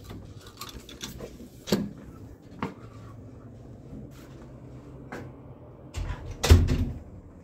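A door being opened indoors after previously being locked, heard as a few separate thumps and clicks, with a louder knock near the end over quiet room ambience.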